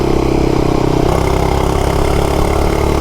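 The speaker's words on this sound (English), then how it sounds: "It is a little loud, but that's what I would expect from a mini bike." Cheap Amazon mini bike's small engine running steadily at a loud, buzzy idle-to-cruise drone, close up and continuous, with a slight shift in pitch partway through and no talking.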